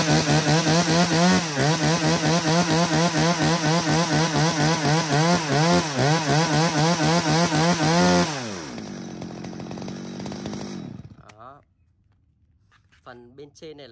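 A chainsaw engine runs loud and close with a wavering, pulsing whine, then drops to a lower idle before cutting off, leaving near silence.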